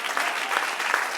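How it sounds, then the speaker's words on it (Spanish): Brief burst of congregation applause during a church sermon, a dense, even patter of many hands, moderately loud and alone for about a second. "Dale un aplauso al Señor"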